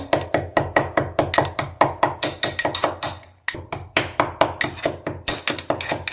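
Cloves and black peppercorns pounded finely by hand, a fast, even run of close, sharp thumping strokes that pauses briefly once and then resumes at the same pace, with no talking.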